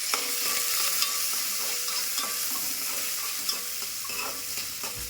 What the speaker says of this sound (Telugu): తాలింపు అయితే ఎల్లిపాయలు పచ్చిమిరపకాయలు వస్తుంది